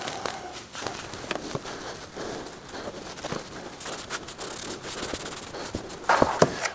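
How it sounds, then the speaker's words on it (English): A cloth wiping and rubbing down a Bison vise, a continuous close scrubbing with uneven strokes and a few knocks near the end, no talking. "let's just fast forward through it so you don't have to watch me wipe and caress a vise down"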